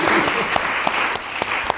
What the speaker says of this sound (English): So please give Anya a round of applause.